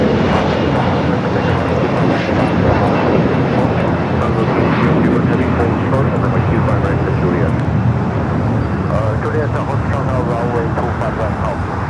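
A large airliner arriving at LAX on a long-haul flight from Shanghai, its loud, steady jet roar filling the scene throughout, with people talking faintly beneath it.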